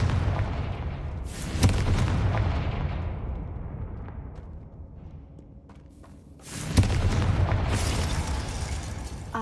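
Fiery Confringo spell blasts in Hogwarts Legacy: two loud booming explosions a few seconds apart, each a sharp hit followed by a long rumbling, crackling decay, with no talking.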